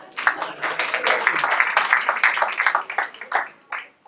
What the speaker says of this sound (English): You can clap, go